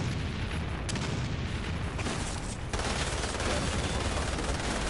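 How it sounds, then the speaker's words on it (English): Continuous dense battle noise from the Umbrella Corps video game, with booming blasts and rattling gunfire filling the whole stretch, including a grenade explosion among the steady loud roar. "Here, have a grenade, motherfucker."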